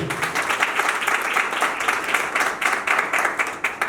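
Steady, dense applause from a crowd at a civil wedding ceremony in a town hall, many hands clapping continuously with a lively, rippling texture and no pauses.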